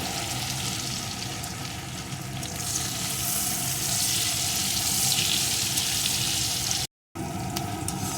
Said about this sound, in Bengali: পেঁয়াজ কুচিটা একটু লাল লাল করে ভেজে নেব